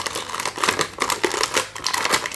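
Plastic blister packaging of a Sonic Prime Shadow action figure crinkles and crackles continuously up close for a couple of seconds, with no voices.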